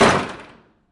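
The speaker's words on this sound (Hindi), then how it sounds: "वह तेजी से पर्दे खींचती है और दरवाजा बंद कर देती है।" A door pushed shut in a room during a tense suspense thriller audio drama, a single close dull thud that decays quickly into silence.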